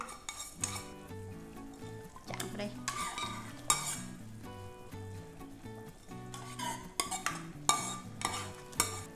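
A utensil stirs and scrapes against a metal pot as sautéed lemongrass, chili, shallot and garlic go in for Hue-style pork hock noodle soup, with clinks and rattles over soft background music and a brief spoken phrase.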